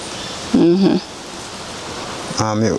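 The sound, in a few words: rain falling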